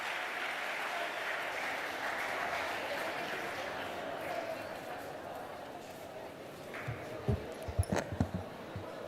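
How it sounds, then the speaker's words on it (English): Applause from a conference audience welcoming a guest speaker, a steady dense clapping wash throughout, with a few louder sharp claps and thumps near the end. "kindly join me in extending a warm round of applause as we welcome Mrs. Krishnapriya A. to share her journey"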